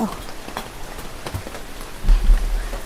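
Light rain patters softly and steadily on surfaces outdoors, faint and even throughout, with a low thud near the end.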